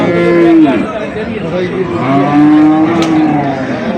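A dairy cow at a busy village cattle market in Dinajpur lets out a loud, drawn-out moo and then a second long low moo, close by, over a constant crowd chatter and market hubbub.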